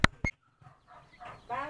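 Native chickens kept on a rural farm give a few short clucks and soft calls, faint and close, with a brief sharp sound at the start.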